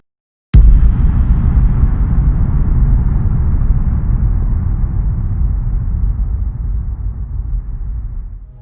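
A Ferrari 812 Superfast engine roars in loud and close after a short silence, holding a steady, dense rumble for about eight seconds before easing off slightly at the end.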